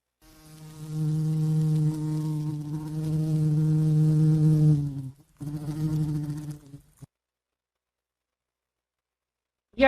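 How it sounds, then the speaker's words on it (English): A bee's loud, steady buzz drones close by for about five seconds, breaks off briefly, then returns for a short second burst before stopping, followed by silence. "This is a bee sound."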